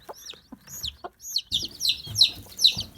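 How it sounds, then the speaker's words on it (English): Two broody mother hens clucking softly among newly introduced mail-order chicks, low murmuring clucks under bright, rapid peeping from the chicks, close by and without talk. "We just introduced the chicks we got in the mail to our 2 broody mama hens."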